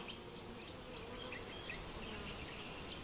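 Honeybees buzz around their hives at a forest apiary, a faint, continuous hum of many wings with individual bees droning close by now and then.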